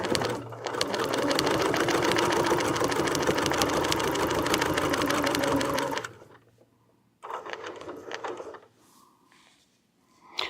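A sewing machine stitches fabric in a fast, steady mechanical whir for about six seconds, stops, then runs again in a shorter burst followed by a brief final pulse.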